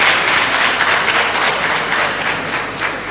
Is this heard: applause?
yes